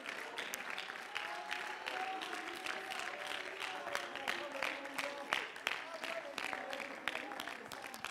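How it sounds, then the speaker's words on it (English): A church congregation clapping hands during a worship service, sustained rhythmic clapping at a distance, fairly faint, with voices mixed in. "Clap your hands and shout to the Lord with a voice of triumph."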